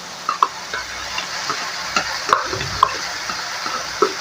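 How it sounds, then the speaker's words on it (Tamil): Sizzling in a hot pan as three eggs are poured in with cowpeas, with scraping and clinking of a utensil stirring at an irregular pace. "இப்போ உடச்சி வச்சுருக்கிறது இந்த மூணு முட்டையை ஊற்றிடலாம்"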